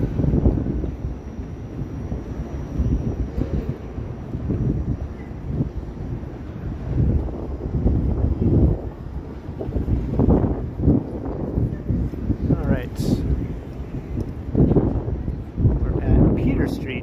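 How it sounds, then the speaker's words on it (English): Strong gusting wind blows outdoors in downtown Toronto on a March evening, a steady broadband rush with heavier buffeting gusts, joined by distant city traffic rumble. "And the wind is just going bonkers here."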